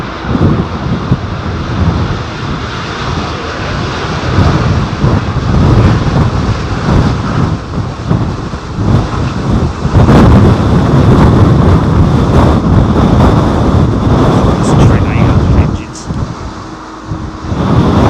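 Strong wind buffets the microphone at London Heathrow airport, a loud continuous roar with gusty surges and a low rumble of aircraft in the background.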